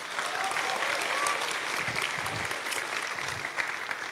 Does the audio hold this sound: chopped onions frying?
no